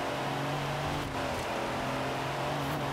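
Engine drone of a vehicle in Forza Horizon 4, holding a steady tone with a brief dip and shifts in pitch, continuous and fairly quiet, no voices.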